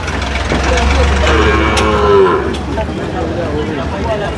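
Loud, deep mooing from young Jafrabadi-type buffalo calves close by at the Erragadda livestock market, one long call dominating the first half, with other animals and faint voices around.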